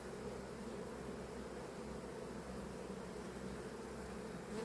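Honey bees at an opened hive give a steady, low, continuous buzz throughout, fairly faint and with no voices.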